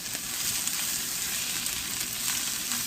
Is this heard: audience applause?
no